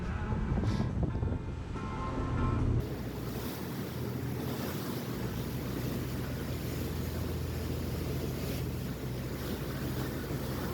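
Wind buffets the microphone over rushing water and waves from a moving boat near South Manitou Island, with a steady engine-like rumble underneath.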